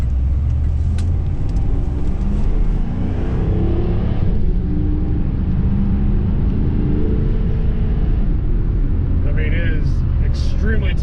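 The engine of a 1995 Pontiac Trans Am in performance mode drones loudly and steadily from inside the cabin while driving, with a deep rumble and some rising revs, and someone talks over it.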